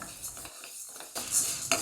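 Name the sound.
stirring green gram roasting in pan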